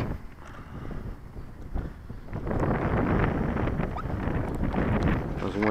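Strong wind buffeting the microphone at an RC model flying field, a rough low roar that rises and holds steady in the second half, close and fairly loud with no clear voices.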